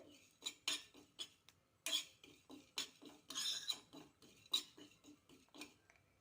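Fennel seeds dry-roasting in a pan, stirred with a metal spoon that clatters and scrapes against the pan in quick, irregular bursts, close and clear.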